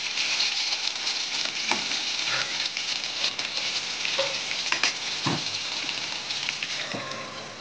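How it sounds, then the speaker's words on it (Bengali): Okra fries in a pan with a little leftover water, giving a steady, dense sizzle with crackles and pops throughout. It is close and alone, with no voices. "একটু জল ছিল বলে ভিন্ডিটা সেরকমভাবে ভাজা হয়নি"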